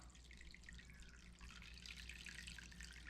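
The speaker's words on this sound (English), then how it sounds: "you can see and hear that super clean draining out of there" Water drains through drilled holes in stacked plastic containers while rusty hardware is cleaned, a faint continuous trickle and drip heard alone.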